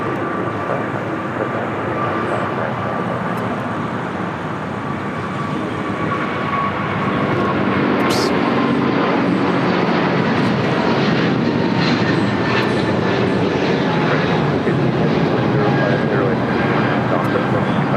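Jet airliners, including a Dreamliner, taxiing at LAX airport, heard as a loud, steady turbine roar and rumble that swells slightly partway through, with radio chatter underneath.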